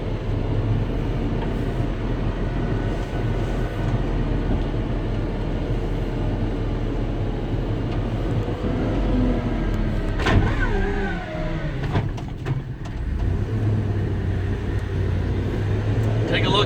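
A 2006 GMC forestry bucket truck with an 8.1-liter gas engine drives along with a steady low engine drone and cab rumble, and some shifting noise near the end.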